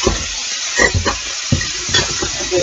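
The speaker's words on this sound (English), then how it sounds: "Toss it a little bit in the skillet." Seasoned beef and vegetables with celery and garlic are stirred and tossed in a skillet, with irregular scraping strokes over a steady sizzle, close and fairly loud, with no talking.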